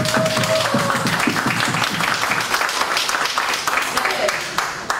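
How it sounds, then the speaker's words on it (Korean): An audience at a citizens' forum in Pyeongtaek claps steadily and fairly loudly for several seconds, the applause mixed with voices and a brief tone. "우리 할머니들 박수 좀 쳐드려야 되는 거 아니에요?"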